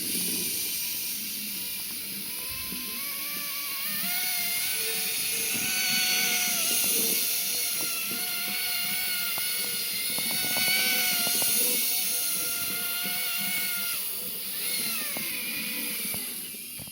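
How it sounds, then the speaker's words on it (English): A small rotor on a Z-scale model rotary snowplow spins with a thin, high-pitched whir. The drone is steady and close, rising and falling slightly in pitch, with faint mechanical ticks beneath. "you can probably hear the rotor of the rotary snowplow turning"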